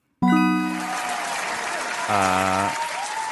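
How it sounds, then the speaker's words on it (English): Studio applause starts abruptly and keeps up as a dense, steady wash for several seconds, heard together with tonal voice-like or musical sounds. "Applause from the studio floor and the studio itself."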